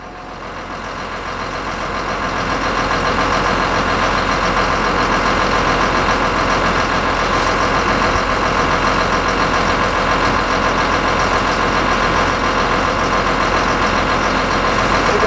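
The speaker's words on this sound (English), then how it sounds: "You can't hear the wind because of the motor and all that kind of stuff" A truck motor running steadily at close range, building up over the first seconds into a constant loud drone that holds for the rest of the stretch, with no talk.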